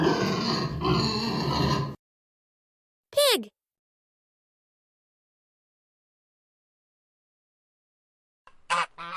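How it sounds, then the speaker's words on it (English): A pig gives a burst of rough, rapid grunts and squealing for about two seconds, followed by a short high squeal and a faint brief grunt near the end, with silence in between. "Pig."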